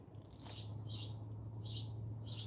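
Small birds chirp in short repeated bursts outdoors in a quiet backyard, fairly faint over a steady low hum, about four chirps in quick succession.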